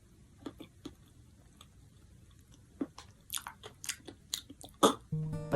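Close, crisp chewing and crunching of food in a series of irregular bites, growing busier toward the end, with no talking.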